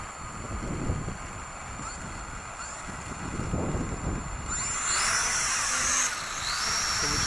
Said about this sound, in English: It's very windy, so we'll see what happens.